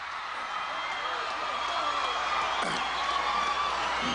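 Crowd in Central Park at an Earth Day 1990 event cheering and clapping to welcome Alec Baldwin, a broad outdoor wash of applause and whoops building under an announcer's voice.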